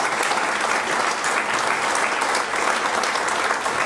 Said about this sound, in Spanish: ¿Te puedo pedir otro aplauso más para el Chivo Eiguren?